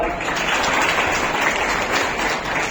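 Dense, steady applause fills a hall at an award ceremony as a certificate is presented, loud and unbroken throughout.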